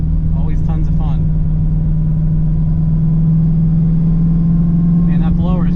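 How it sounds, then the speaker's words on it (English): The supercharger blower on an LSA-swapped Nissan G35, fitted with a new pulley combo, gives a steady, sustained whine over the running engine. Brief bits of talk come at the start and end. "that blower is just singing all the time now with this pulley combo"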